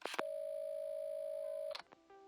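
A steady, clear telephone dial tone from a phone handset in the game Assemble with Care, humming for about a second and a half before cutting off abruptly, preceded by a short clatter of the receiver being lifted.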